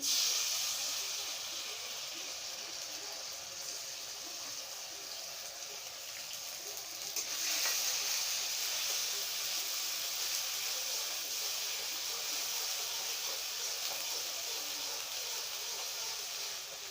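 Ginger, cumin and onion paste hitting a hot pan for a spicy pabda fish curry, giving a steady, bright hiss of sizzling that swells slightly partway through and holds on alone without talk.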